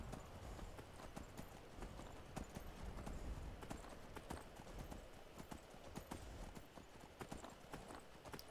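Steady clip-clop of horse hooves trotting at an even pace in the video game Skyrim, with scattered crisp clicks over a soft background.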